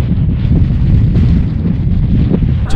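Wind whips sand across the desert at the Giza pyramids, a loud, continuous buffeting roar of gusts striking the microphone, with no voices.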